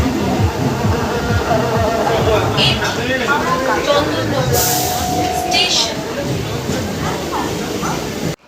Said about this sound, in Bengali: আর ব্যান্ডেল থেকে ট্রেন ছেড়ে দিল